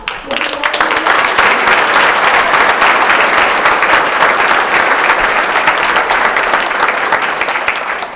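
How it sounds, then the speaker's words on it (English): Loud, dense applause for the Fergus Falls High School orchestra fills a luncheon room, many hands clapping close and strong, swelling quickly and holding steady before easing slightly at the end. "I'd like us to give a big, loud, really loud round of applause for our orchestra members from the Fergus Falls High School"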